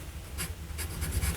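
Jinhao Dadao 9019 fountain pen with a medium nib scratching across paper, short close strokes in a quick rhythm with brief pauses between them, no talking.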